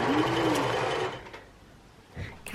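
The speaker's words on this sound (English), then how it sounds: "She's whizzing up a skater dress" A sewing machine stitching a skater dress runs in a fast, steady whir for about a second, then stops, leaving a quiet room with faint background voices and a brief knock near the end.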